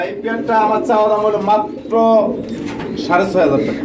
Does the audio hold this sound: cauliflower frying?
no